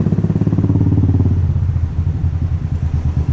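Motorcycle on a solo ride from Delhi arriving at a hotel in Mussoorie in the rain, its engine loud and close as it rolls in, then dropping to a throbbing idle.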